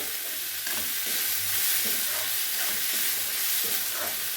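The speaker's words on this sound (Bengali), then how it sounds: "এবার নাড়িয়ে নেবো ভালো করে মিশিয়ে নেবো" Kashmiri pulao rice is stirred in a pan, a steady close sizzle and hiss with soft rhythmic scraping strokes repeating throughout, no talking.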